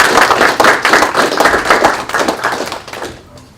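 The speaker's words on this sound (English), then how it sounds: "Warm round of applause for you." A small audience gives an ambassador a short round of applause at an energy-security talk, close, rhythmic individual claps that thin out and fade after about three seconds.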